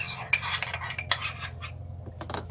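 A metal teaspoon scoops mica powder for cherry blossom soap, giving several close, light clinks and scrapes against a container with a low steady hum underneath.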